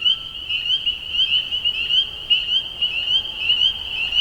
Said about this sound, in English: you can really hear the spring peepers off in the distance there